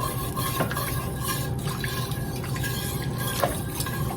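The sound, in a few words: whisking flour into broccoli cauliflower cheese soup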